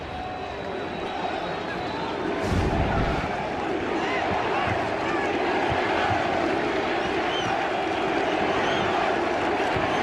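A large NFL stadium crowd in East Rutherford at a Jaguars–Giants game roars and chants for defense, a broad sustained wall of far-off voices with a louder swell early on and announcer-style talk mixed in.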